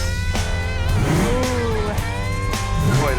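Close car engine revving in repeated bursts, each blip climbing sharply in pitch then dropping back to a rough idle, loud and alone.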